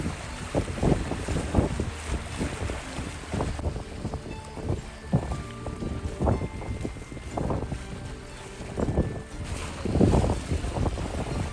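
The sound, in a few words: strong wind at sea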